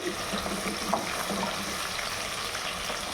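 Drumstick pieces (moringa) frying in oil for a Telugu pulusu, giving a steady broadband sizzle with a few faint clinks, close and continuous without speech.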